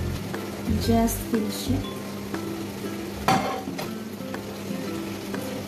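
Translucent onions sizzle in a pan while a beef caldereta cooks, a steady frying hiss under a woman's speech, with a few utensil clinks and one sharp clatter midway.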